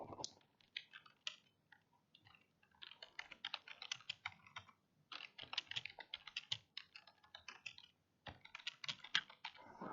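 Quick runs of clicky keystrokes on a computer keyboard, close and fairly quiet, come in bursts with short pauses between, alone with no voices.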